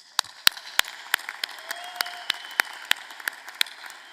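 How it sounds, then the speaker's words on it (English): Sparse, scattered claps from a commencement audience applauding graduating students, individual sharp hand claps at irregular intervals over a faint hum. "A round of applause for all these outstanding students"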